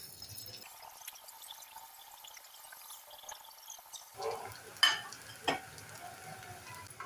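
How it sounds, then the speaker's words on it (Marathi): Veg manchurian balls deep-frying in hot oil give a steady close sizzle, which swells near the end with a few sharp clinks and spattering bursts. "आता राहिलेले मंचुरियन आपण फ्राय करून घेऊया"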